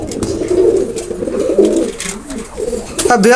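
Teddy pigeons coo in a low, throaty, rolling series, close and fairly loud, with a brief flutter and a sharper call near the end.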